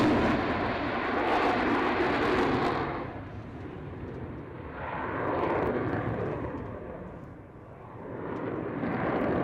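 Loud jet aircraft roar during a takeoff at the Fairford airshow, a thundering broadband rumble that swells, dips and surges again as the plane passes, with no talk over it.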